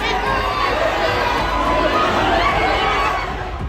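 An unruly crowd jostles with police outside a mosque in Baghpat, Uttar Pradesh, producing a loud, dense, continuous roar of shouting and overlapping voices that stays steady throughout.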